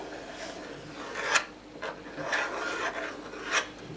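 A compass point scribes a circle on perspex, giving dry rasping scratches in several short strokes with gaps between them, close and fairly quiet.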